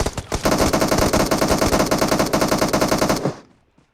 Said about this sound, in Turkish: UMP atabilirim. Orası vuruyor.